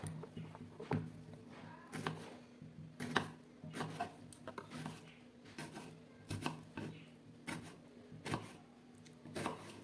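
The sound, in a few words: knife chopping tomatoes into thin slices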